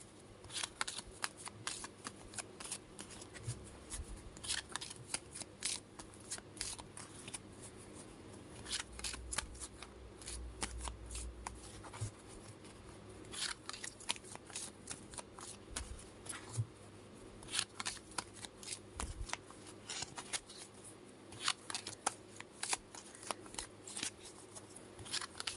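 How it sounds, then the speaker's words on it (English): A deck of cards shuffled repeatedly by hand, soft riffling and snapping bursts in quick succession, close and quiet with no talk. "Think about your question as I shuffle the cards."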